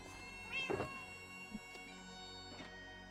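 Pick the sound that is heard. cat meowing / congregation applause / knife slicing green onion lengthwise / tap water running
cat meowing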